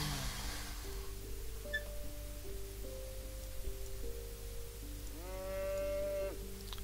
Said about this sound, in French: Ta gueule la vache.